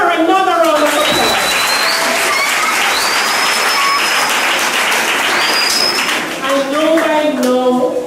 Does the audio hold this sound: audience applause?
yes